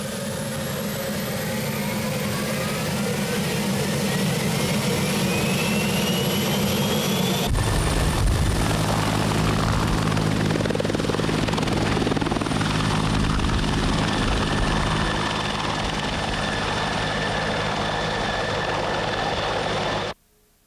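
A helicopter roars close and loud with a steady rotor and turbine drone and a rising whine that shifts midway, then cuts off abruptly at the end.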